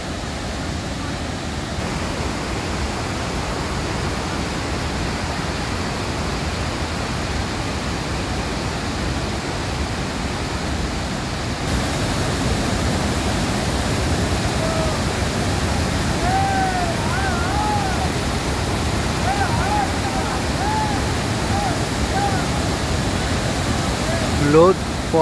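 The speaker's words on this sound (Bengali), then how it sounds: "লোধ ফলস, ঝাড়খণ্ড। বর্ষাকাল, তাই এত জলের জোর, এত কুলকুল শব্দ।" Lodh Falls in Jharkhand pours heavily in the monsoon, a dense, steady roar of rushing water that stays broad and unbroken throughout and grows slightly louder partway through.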